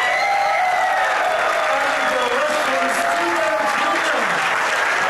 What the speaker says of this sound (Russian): После короткого выступления президента ФИСУ зал взрывается аплодисментами.